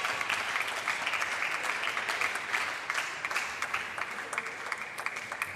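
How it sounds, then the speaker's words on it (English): A strong Polish home crowd at a Tarnobrzeg table tennis club, during a European Champions League Final Four match, applauds steadily, with a dense wash of clapping held throughout. "A strong Polish crowd here at the Club Tenisa Stołowego."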